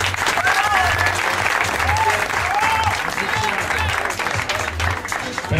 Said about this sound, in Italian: facciamo un applauso per Antonio